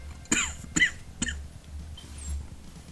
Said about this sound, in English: I'm about to just mute my microphone until I stop coughing.